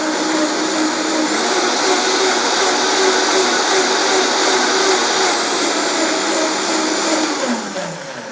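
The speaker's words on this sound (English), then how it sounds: "Always start off with low and then work your way up to a faster speed." Vitamix blender pureeing soup, a loud, close, continuous high-pitched motor roar that holds steady for several seconds, then begins to wind down in pitch at the end.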